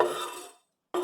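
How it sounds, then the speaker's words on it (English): A vegan peanut butter tofu stir fry being stirred in a pan gives a scraping, clattering sound that fades out, then after a brief silence a second burst of utensil noise starts. "So we're just going to stir this together."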